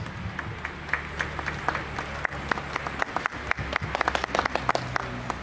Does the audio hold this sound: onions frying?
no